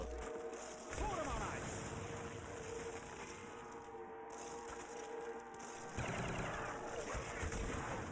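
Zombies are shot with the Wonder Weapon in the Five map of a zombies shooter game, giving dense, continuous bursts of gunfire at a steady level, with a voice talking over the shooting.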